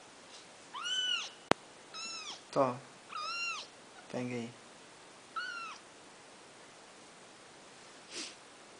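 Several short cat meows from a mother cat and her kitten, spaced irregularly at close range, with a few brief sharp clicks and a couple of spoken words between the calls.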